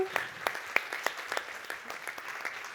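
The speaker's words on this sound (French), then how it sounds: "On peut l'applaudir très fort" A small audience applauds after a startup pitch, with sparse, distinct claps coming at an uneven rhythm, fairly close and moderate in volume, thinning out toward the end.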